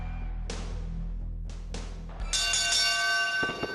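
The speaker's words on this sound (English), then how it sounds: "there's the bell and Samus straight in after Zeena." A wrestling match bell rings repeatedly amid loud arena noise, several sharp clangs sounding over a steady crowd roar that swells toward the end.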